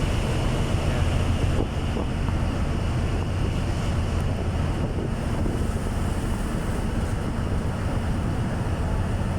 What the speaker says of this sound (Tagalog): Ayan, nalagyan ng alon.